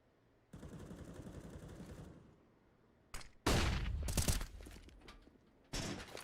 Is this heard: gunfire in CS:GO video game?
yes